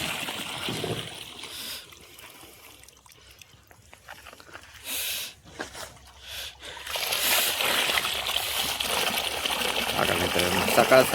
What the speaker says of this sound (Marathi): सकाळ सकाळ बी भरपूर पाणी मारतंय